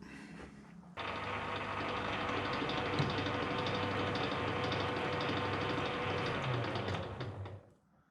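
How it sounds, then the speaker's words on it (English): Tailstock die holder on a lathe cutting thread onto a 5/8 bolt, a steady loud mechanical drone starting after a second and running continuously before fading out at the end, with no talking. "I've got it set up to extend the thread on a 5/8 bolt"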